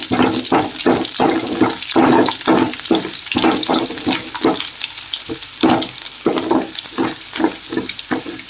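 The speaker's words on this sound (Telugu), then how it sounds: "ఆయిల్ వేగిన తర్వాత వెల్లుల్లిపాయలు వేయాలి." Garlic cloves tossed and stirred in hot oil in a pan while cooking chilli chicken, rhythmic scraping strokes over a steady sizzle, close and loud, no talking.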